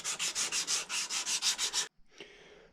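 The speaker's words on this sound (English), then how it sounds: "I'm going to sand the plug a while and get that perfectly sanded before I install the staple" Sandpaper rubbed against a wooden powder horn plug in about ten steady, evenly spaced strokes, loud and close, then a short pause and a softer final rub.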